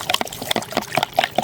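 Moina culture liquid for a guppy farm is stirred, strained and poured into another container, giving a run of quick splashy trickles and dribbles, close and fairly loud, with no talk.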